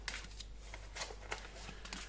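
A deck of Chakra-Cœur oracle cards is shuffled in quick riffling bursts, a close, soft flutter of card edges over a low steady hum.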